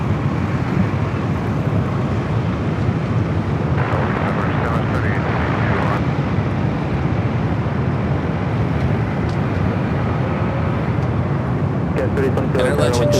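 A WestJet airliner arrives at LAX, its engines a loud, steady broadband roar that holds throughout, with a person talking over it.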